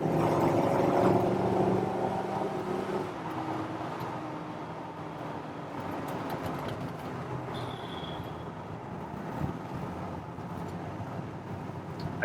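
A 1956 Chevy 3100 pickup truck engine revs up loudly at the start, then settles into a steady lower rumble that keeps running close by.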